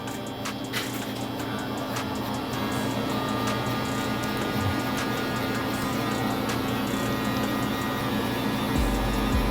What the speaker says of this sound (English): Next, with the JRL clipper, 1 guard lever open, this makes the half